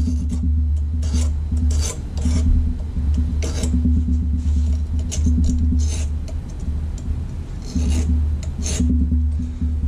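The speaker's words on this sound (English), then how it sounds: "I'm just making scribe marks here that'll set this where I want it" Scribe marks scratched onto a glow plug terminal block for a Ford F-350 7.3 IDI build, heard as close, rhythmic rasping strokes over a steady low hum, with no talking.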